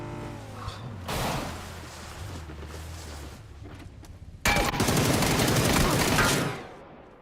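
Rapid bursts of PUBG video game gunfire crackle over a droning engine, with a loud sustained volley near the end before fading out.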